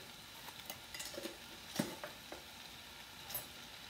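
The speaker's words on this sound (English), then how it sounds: "Whenever I'm frying an egg, I like to put a little bit of butter on the griddle as well." An egg fries softly in butter and oil on a hot griddle, giving a faint steady sizzle with a few light scrapes and clicks of a utensil against the surface.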